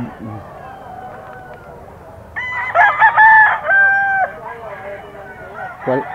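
Gray gamecock bullstag crowing at a pet market, a loud, harmonic crow of about two seconds in the middle of the clip, with soft clucks and low background noise around it.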